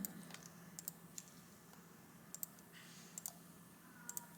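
Computer keyboard keys tapped in a few quick, light clicks scattered across a quiet room, faint and close, with no talking.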